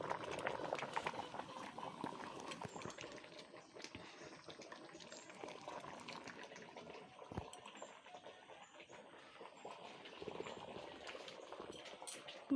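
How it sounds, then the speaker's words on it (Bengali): A big pot of rice boils steadily on a home kitchen stove, a continuous bubbling and simmering that runs throughout at moderate level, with a few small clinks and rises in intensity. "এই যে ভাত হচ্ছে, এক হাঁড়ি ভাত হচ্ছে।"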